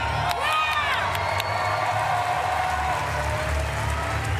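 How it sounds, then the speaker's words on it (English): A large arena crowd cheers and shouts continuously and loudly for a woman powerlifter at the Paris 2024 Paralympic powerlifting finals, with some whistles and whoops rising above the crowd. "Her roar is matched by the crowd here, who are willing her on in round 3."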